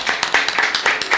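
Studio audience applause at a talk show on technical education in Argentina, a short burst of bright, dense clapping, loud and close.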